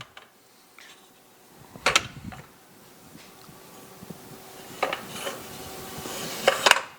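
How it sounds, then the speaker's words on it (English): A metal seat tube drops into the saddle of a 650 lb lift motorcycle hitch carrier, giving a couple of sharp metallic clanks with brief rattling, heard close against a quiet background. "So we just drop the seat tube in."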